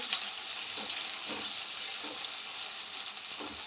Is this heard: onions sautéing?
yes